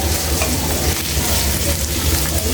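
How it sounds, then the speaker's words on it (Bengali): Sliced garlic and onion fry in hot oil, a loud, steady sizzle and crackle that carries on unbroken, with no voices. "তেল দিয়ে পেঁয়াজ আর রসুন ভেজে নেব।"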